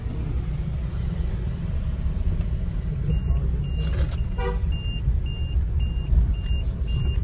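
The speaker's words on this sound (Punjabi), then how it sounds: "ਗੱਡੀ ਲਾ ਲਈ ਆਪਾਂ ਪਾਰਕਿੰਗ 'ਚ" A car is parked in a parking area near Manikaran Sahib, its engine rumbling low while a run of short, evenly spaced electronic beeps sounds over it.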